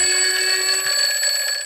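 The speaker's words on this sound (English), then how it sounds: "There's a little alarm clock at the end now." A small alarm clock rings with a steady, continuous electronic tone, loud and close, filling the whole moment alone without any talk.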